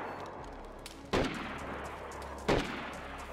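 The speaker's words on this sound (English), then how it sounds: "Who is shooting at me?" Gunfire in the video game DayZ, two sharp distant shots about a second and a half apart, each with a trailing echo over low ambient noise.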